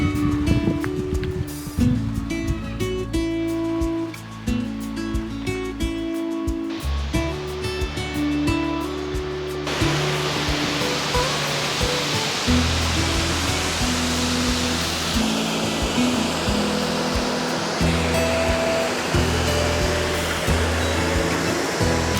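Zarwani waterfalls in Gujarat, a broad, steady roar of rushing water that fills the whole stretch, following an opening passage of tonal sound, with no talking.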